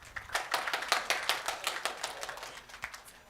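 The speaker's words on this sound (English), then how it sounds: "A big round of applause for them." Applause from an audience at a personality development programme, a dense, steady patter of many hands clapping for a few seconds, fairly faint and without talk.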